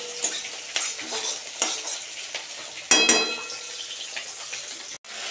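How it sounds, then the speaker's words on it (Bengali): Spices sizzle and fry in hot oil for a fish curry while a spoon stirs them, with steady close frying hiss, repeated scraping strokes in the pan and a louder burst of sizzling partway through. "মাছের ঝালের জন্য মশলা কষানো হচ্ছে।"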